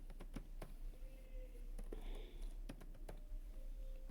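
Clattering keystrokes on a computer keyboard while coding an Angular project, irregular bursts of close taps with brief pauses between, quiet and alone.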